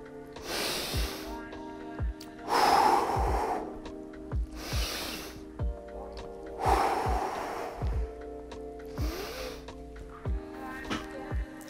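Heavy breathing during a dumbbell chest workout: loud, forceful exhales and inhales come in bursts roughly every few seconds, close to the listener, over faint clicks and background noise.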